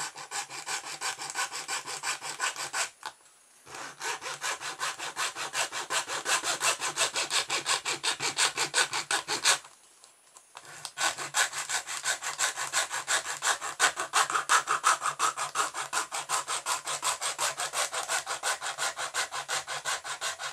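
Steady back-and-forth strokes of a hand saw cutting through the plastic end of a cheap vibrating electric toothbrush, close and rhythmic, with two short pauses between runs of strokes.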